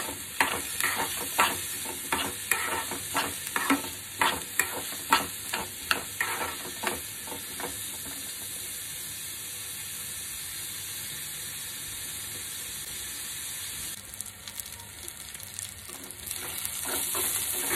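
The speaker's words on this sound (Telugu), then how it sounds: "ఇది కలుపుకొని మంచి గోల్డెన్ బ్రౌన్ వచ్చే వరకు వేయించుకోవాలండి." Onions sautéing with a pinch of salt in a pan, stirred with a quick run of rhythmic scraping strokes over a steady sizzle, then a stretch of plain frying hiss, all close and with no talking.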